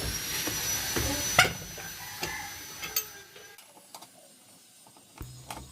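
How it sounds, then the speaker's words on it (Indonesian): A Toyota Etios sits on a jack while its wheel nuts are loosened. Metallic ratcheting and mechanical clicks come close and fairly loud at first, then thin out into sparser, fainter ticks, with no one talking. "kita kendorkan dulu baut rodanya"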